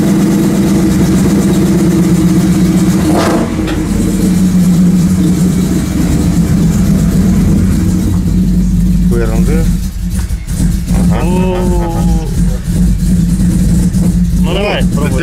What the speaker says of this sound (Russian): Сейчас как поедет машина.